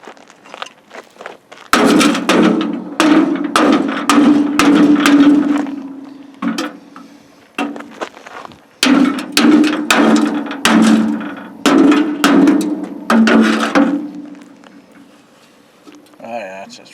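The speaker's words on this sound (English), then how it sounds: "when I smack this one rust spot with the hammer, it'll bust in" A hammer strikes a rusted steel tube on an Eversman land plane frame, delivering a dozen or more sharp, loud blows in two bursts, with talking heard in the pauses.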